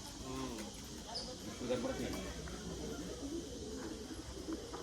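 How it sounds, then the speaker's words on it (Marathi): A pigeon coos softly in the distance under steady buzzing insects and faint background voices, the low calls repeating a few times. "कबूतर आहे ते"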